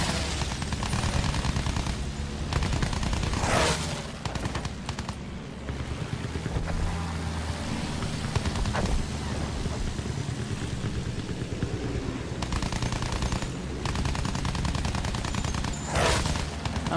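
Gunfire in Battlefield 1 crackles through a battlefield din, with rapid automatic bursts and sharp single shots over a constant rumble of engines and explosions, loud and sustained throughout.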